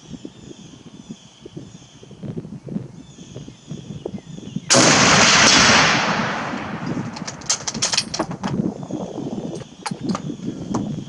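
A single sharp sniper rifle shot cracks out loudly outdoors, ringing off into a decaying tail, with faint background noise before and after.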